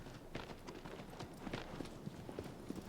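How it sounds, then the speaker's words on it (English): Horse hooves beat in a fast, irregular gallop in the video game Shadow of the Colossus (2018), faint and soft, with no talk over them. "we can't just start galloping"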